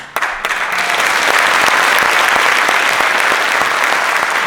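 A large audience at a nursing week event claps loudly and continuously, sustained dense applause filling a hall after a brief quiet start.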